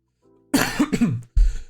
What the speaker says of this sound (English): I'm so sorry, I'm still coughing a lot.